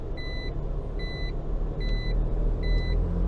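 A BMW Z4's seat belt warning chime beeps in evenly spaced pairs over the steady low rumble of its engine running flat out in fourth gear on a rolling road.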